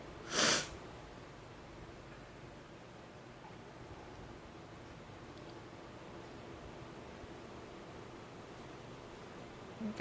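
A single sharp sneeze bursts out near the start, followed by quiet room hiss and faint rustling for the rest of the stretch.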